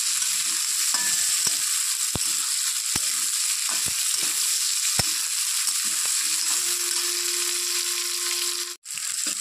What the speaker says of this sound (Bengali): আলু পেঁয়াজ একসঙ্গে ভেজে নেব।